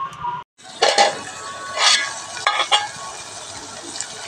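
Onion pieces fry in a pan with a steady soft sizzle, broken by several louder scraping and clinking stir strokes of a utensil against the pan.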